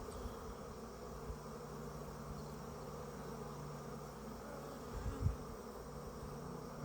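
Honey bees buzz around an open hive as its eighth frame is inspected, a faint, steady, continuous hum with a small bump near the end.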